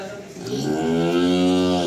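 A cow gives one long, loud, steady moo at close range, rising in strength and holding for about two seconds before tailing off.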